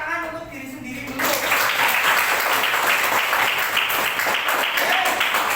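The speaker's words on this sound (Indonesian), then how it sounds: "silakan tepuk tangan untuk diri sendiri dulu" A classroom of students breaks into sustained clapping for themselves, starting after a moment of talk and continuing dense and steady to the end.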